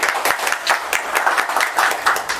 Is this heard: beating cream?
no